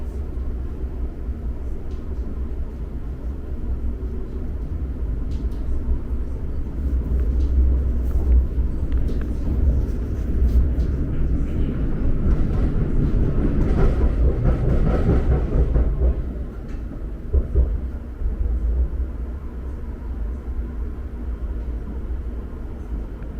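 An Elizabeth Line train pulls into Heathrow Terminals 2 and 3. A steady low rumble runs throughout, swelling with louder rolling noise midway, then settling back to a constant hum.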